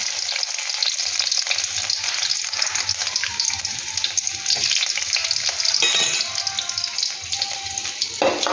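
Garlic sizzles and crackles steadily in hot coconut oil for fried rice, a dense continuous frying hiss with a brief louder burst near the end, close and with no talking.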